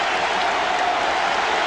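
A packed arena crowd roars at a 1997 college basketball game between Duke and Maryland, a steady, dense wall of cheering and applause lasting throughout with no break.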